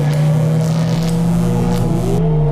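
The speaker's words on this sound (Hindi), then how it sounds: "सुमित जल्दी से गाड़ी स्टार्ट करता है और वहां से निकलता है।" A car engine hums steadily at close range as the vehicle is started and driven off, its pitch climbing near the end as it pulls away, with no voices.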